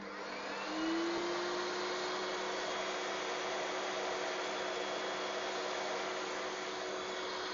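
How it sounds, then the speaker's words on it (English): A dust extractor spins up to full power and settles into a loud, steady whooshing drone that continues alone without pause. "and I put now the dust extractor in full power."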